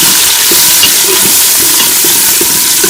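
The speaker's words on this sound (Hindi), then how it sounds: "प्याज हमारे लाइट गोल्डन हो गया, इसमें हम टमाटर शामिल करेंगे, इसको भी मिक्स कर लेंगे" Tomatoes hit golden fried onions in a pan for dal tadka, producing a loud, continuous sizzle with regular spoon scrapes as the mixture is stirred, no voices.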